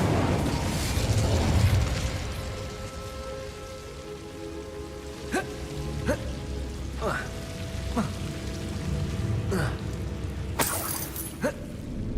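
Spell effects from the Hogwarts Legacy video game, including a Bombarda explosion, come as a series of sharp cracking bursts with short zaps over a steady rumbling game ambience.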